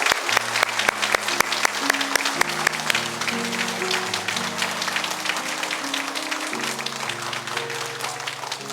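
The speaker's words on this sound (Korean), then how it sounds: "큰 박수 하겠습니다." Congregation applause at a Korean church Thanksgiving service welcoming newcomers and their families, with sharp, close hand claps over sustained church music or organ tones, lasting steadily throughout.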